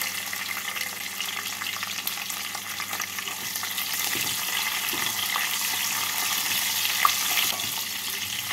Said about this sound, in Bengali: তেল আর ঘিটা গরম করে নিয়ে এর মধ্যে কাজু আর কিশমিশগুলোকে ভেজে তুলে নেব